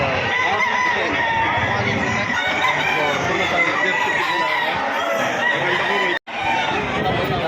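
A dense mix of many chickens clucking and roosters crowing fills the air, with people chattering in the background and a brief cut near the end.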